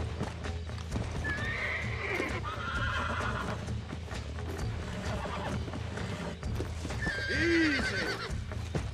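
Horses in the Red Dead Redemption video game clip-clop steadily and neigh, with a whinny rising clearly near the end over an outdoor ambience.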